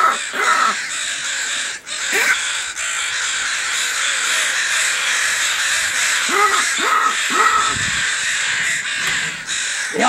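Crows at Coffin Cove, Alaska, caw repeatedly in short harsh calls over a dense, steady background din, fairly loud and close, with no speech.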